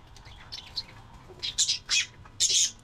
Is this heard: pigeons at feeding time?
yes